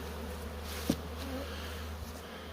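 Carniolan honey bees hum steadily nearby at the hive, a dense continuous buzz with an occasional louder bee passing close.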